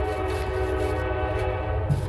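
Passing train with its horn held, a steady harmonic blast over low rolling rumble, continuous for about two seconds with no voices.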